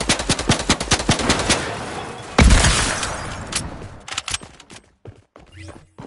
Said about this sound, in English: Use a scope and then shoot.